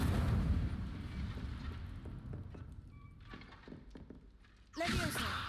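In the Hogwarts Legacy video game, the Incendio fire spell is cast, and a sudden whooshing, thumping flare bursts out near the end after a quieter stretch of low rumbling ambience.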